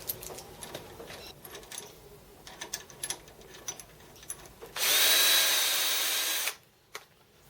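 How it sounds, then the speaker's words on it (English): A power drill whines steadily for about two seconds as it drills metal, after some scattered clicks and handling noises, then cuts off abruptly. "We're going to drill it out 5."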